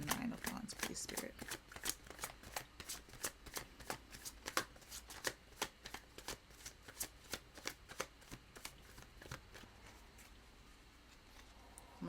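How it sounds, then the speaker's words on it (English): Tarot cards are shuffled by hand, a fast run of crisp riffling bursts and slaps followed by regular softer taps, with a voice talking faintly at times. "I'm going to do one more shuffle."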